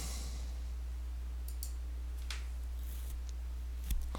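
A single short mouse click rings out near the end of an otherwise quiet stretch while someone clicks New Subsite on a computer site, with a few faint ticks before it.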